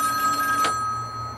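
A payphone rings when called, a steady electronic ring tone running through the whole moment over a faint low hum, with a brief broadband burst partway through.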